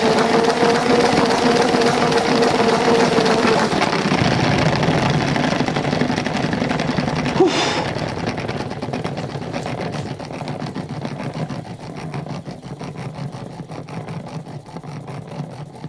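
A salad spinner loaded with face masks whirs loudly at maximum speed, then winds down and keeps spinning more softly, with a sharp click partway through; no one talks.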